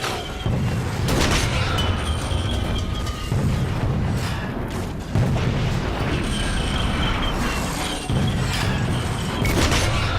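Artillery barrages pound the field in the video game Toy Soldiers, a dense, continuous rumble of booming explosions with several sharper blasts standing out, loud and close throughout.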